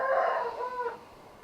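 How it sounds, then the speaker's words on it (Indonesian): A rooster crows once at a moderate distance, a drawn-out call that fades after about a second and is heard on its own over quiet background. "Ada ayam di sana."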